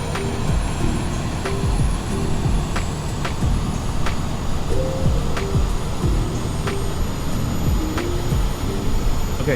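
A steady, droning Airbus A320neo APU hum in a flight simulator spools at a constant pitch, with a faint whine over low rumble and occasional soft clicks, no voices.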